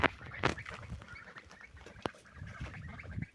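Domestic ducks murmur in soft, low quacks and short chattering calls, quiet and close, with scattered small splashes and rustles between them.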